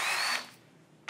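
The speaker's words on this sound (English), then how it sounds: "Now we can go ahead and use the hole saw" A hole saw on a power drill cuts into a metal motherboard tray in a brief, close, loud drilling whir that winds down within half a second, followed by a faint click.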